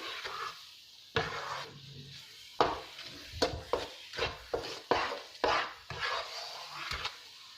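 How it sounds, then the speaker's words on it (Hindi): Gram flour halwa is stirred and roasted in a pan, with a steady run of about a dozen scraping, rasping spatula strokes over a soft background hiss, close and fairly loud. "थोड़ी देर आप इस हलवे को हम भूनेंगे मज़ीद।"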